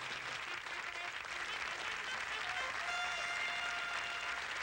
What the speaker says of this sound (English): those people are clapping for you running down the road